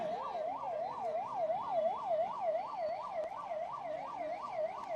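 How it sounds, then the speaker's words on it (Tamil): An ambulance stuck in a crowd during a political rally procession sounds its siren, a steady wailing whoop repeating in quick regular cycles, moderately loud over a low crowd murmur. "அண்ணா எல்லாரும் கொஞ்சம் வழி விடுங்க ஆம்புலன்ஸ்க்கு."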